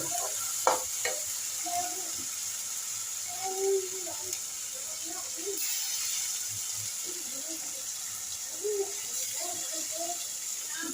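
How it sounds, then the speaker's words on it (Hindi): Masala with turmeric, tomatoes and salt sizzles steadily in a pan while being stirred, with soft scraping strokes and wet bubbling that stay moderately close throughout. "थोड़ी सी हल्दी डालती हूँ और टमाटर डाल देती हूँ"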